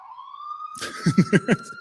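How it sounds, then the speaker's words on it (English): A siren outside rises steadily as a long wavering tone, then a burst of four short, loud pulses near the end. No one speaks over it. "there's a siren outside right now."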